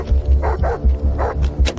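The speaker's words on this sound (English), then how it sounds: "the dog barks louder and louder" A dog at a border checkpoint barks in short, repeated bow-wow bursts, fairly loud and close, with a tense, insistent rhythm and no talking over it.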